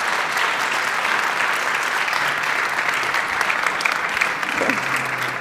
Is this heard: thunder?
no